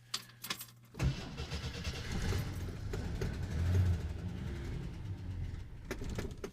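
A 1969 Jeep Wagoneer engine cranks and catches, settling into a rough, low idle that runs close and steady with a few knocks and clicks around it.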